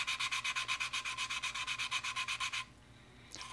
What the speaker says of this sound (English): I'm basically taking a little bit of a sanding stick and just coming in here and sanding back the CA